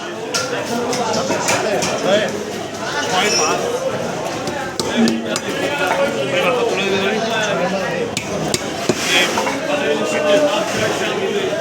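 A fishmonger at a market chops a 3.5 kg catla fish into twenty pieces, steady thuds and knocks of a blade on a board running beneath continuous nearby talk amid busy market clatter.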